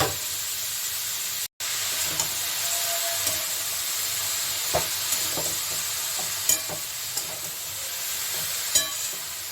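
Grated pointed gourd (potol) sizzles in hot oil, a steady close frying hiss with faint stirring scrapes and small crackles, no talking.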